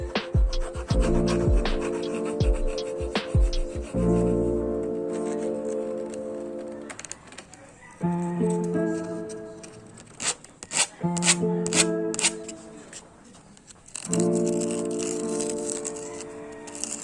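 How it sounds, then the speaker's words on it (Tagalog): Hand filing and sandpapering the freshly cut edges of a bicycle handlebar, with rhythmic rasping strokes in bursts separated by short pauses, close and fairly quiet, no talking. "Konting kikil lang at liha para maging smooth yung edges nito."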